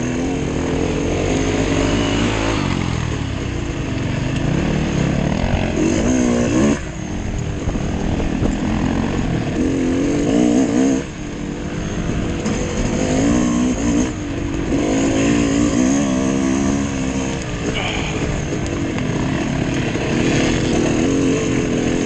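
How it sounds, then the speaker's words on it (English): Vehicles driving on an icy slope with their engines droning steadily the whole time, loud and continuous with slight rises and falls in pitch as they rev without traction. "Oh, they're driving on ice."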